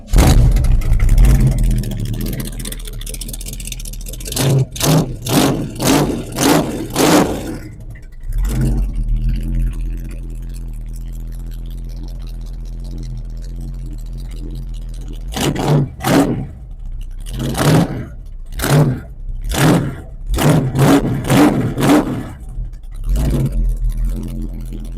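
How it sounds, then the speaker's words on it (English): A black square-body burnout car engine starts and revs hard in repeated loud, close bursts, with a rough idle rumbling between the runs. "Let's fire her up, AJ"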